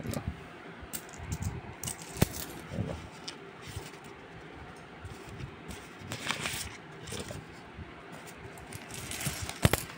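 Saved coins, seven months of Christmas savings meant for godchildren, pour and jingle in a steady metallic clatter with sharp clinks, close and continuous throughout.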